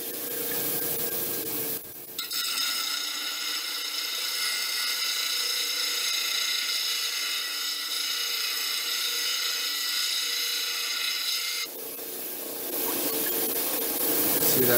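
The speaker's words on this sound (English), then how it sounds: "I'll show you a little bit of grinding. I'm going to grind this down" A Yooperlite rock is ground round against a spinning grinding wheel, giving a steady, close, loud abrasive hiss that runs unbroken for about ten seconds, with softer wheel noise before and after.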